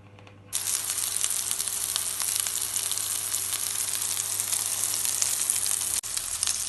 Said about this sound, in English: Once they're golden brown on one side, use a spatula, flip them over and cook them on the other side